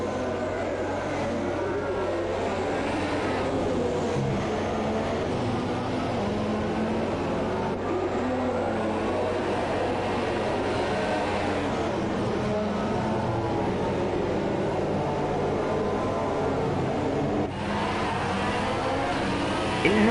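Race cars in an F2 racing video game at the Italian Grand Prix roar continuously, engines droning and surging as they accelerate hard and brake during a formation lap, loud and steady throughout with no pauses.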